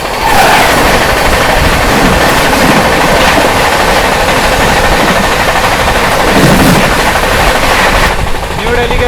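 The New Delhi–Gaya Mahabodhi Express rushes past close by, a loud, steady roar of wheels and rattling coaches with no break.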